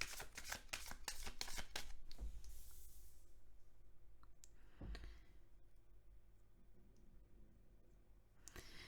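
Tarot cards shuffled at close range, a rapid burst of flicking snaps at the start, then a quieter stretch broken by a few isolated slaps and clicks.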